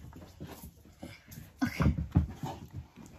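A dog whimpers and pants close by indoors, giving soft, uneven whines and breathy sounds that build louder midway.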